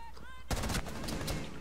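Sudden burst of automatic gunfire in Rainbow Six Siege during a Terrorist Hunt, rapid shots that start abruptly after a short quiet moment and continue loud and close.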